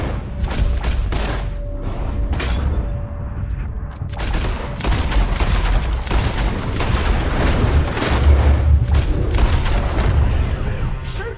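Heavy gunfire from a Red Dead Redemption 2 shootout: dense overlapping shots and booming blasts rolling continuously, loud and close, with shouting voices mixed into the chaos.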